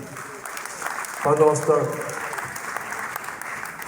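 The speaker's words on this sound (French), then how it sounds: "Applaudissons très très fort pour Maman Milou." An audience claps for a theatre troupe, the applause swelling briefly and then settling under someone speaking French over a PA.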